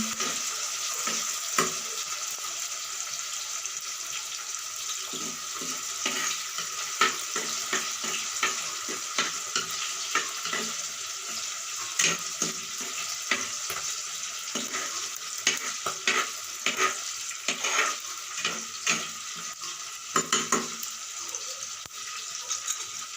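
Tomatoes sautéing in oil in a pan for a homestyle sardine curry, a steady close sizzle with scattered stirring scrapes and clicks throughout, no voices.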